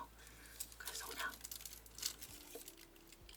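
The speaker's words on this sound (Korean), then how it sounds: "이거 비닐로 조금 목을 감싸드릴게요." Plastic vinyl sheet crinkling as it is wrapped around a client's neck at a hair salon, faint, close rustles and crackles in a quiet room.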